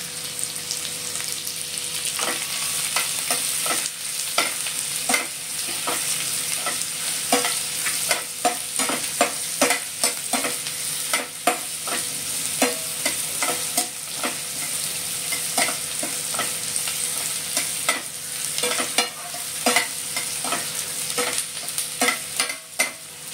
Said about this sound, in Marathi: कांदा टाकून देतोय आपण चांगला मस्तपैकी.